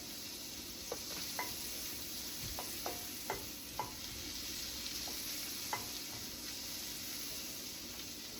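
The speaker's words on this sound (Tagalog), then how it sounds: "maglalagay po tayo ng butter sa pan. Ayan lang po natin mag-dissolve" Butter melts in a pan over medium heat, giving a soft steady sizzle with light scattered taps and clinks of a utensil, quiet and close, with no voices.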